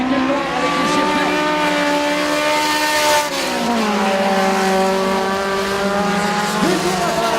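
Race car number 52, black with white numbers, roars past close by at a St-Guillaume race, its loud engine note falling in pitch as it passes, with a faint squeal of tires.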